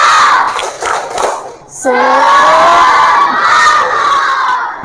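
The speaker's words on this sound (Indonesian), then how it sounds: "Tepuk semangat bersama-sama" A primary-school class in an Indonesian classroom performs a rhythmic spirit clap-cheer together, loud close clapping bursts followed by children shouting and cheering in unison.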